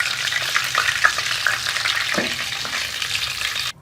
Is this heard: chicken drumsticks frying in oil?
yes